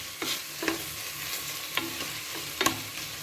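Green chilli, coriander and mint sautéing in a pan, a steady oily sizzle broken by a few sharp scrapes of stirring, close and moderately loud with no voices.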